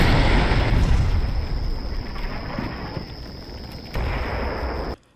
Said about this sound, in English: The infantry on the left get off a Javelin top attack missile.